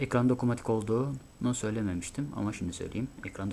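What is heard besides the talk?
No everyday noises stand out.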